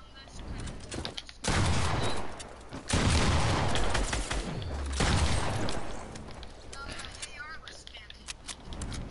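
Rapid bursts of AR rifle fire in a shooting video game, loud and dense with sustained volleys, mixed with faint voices.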